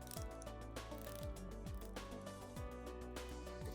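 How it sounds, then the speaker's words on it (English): A black ion-plated stainless steel Victorinox Maverick watch's unidirectional bezel turns with a run of quiet, close ratcheting clicks in a quick, even rhythm. "unidirectional bezel. Just going to show you guys how that clicks."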